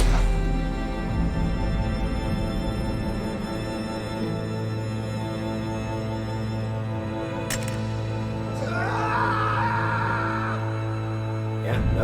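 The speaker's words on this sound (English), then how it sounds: "his VA does a really good scream" A drawn-out, strained scream from Javier in Telltale's The Walking Dead: Season 3, with a touch of echo, rising late in the clip over a steady, sustained musical drone.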